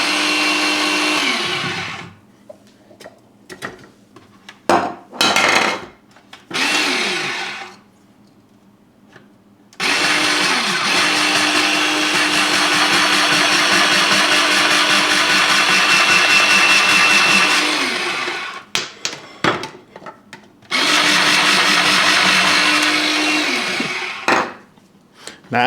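A Silvercrest SGR 150 E3 electric grater slicing potato: loud motor whirring in several bursts, each spinning up and winding down, with gaps of quiet and clunks of handling between runs.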